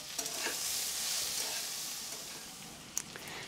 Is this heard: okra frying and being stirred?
yes